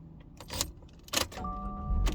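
Key clicking and turning in the keyed ignition of a 2024 Subaru Crosstrek, a few close metallic clicks and jingles, then steady electronic chimes and a low hum as the car comes to life.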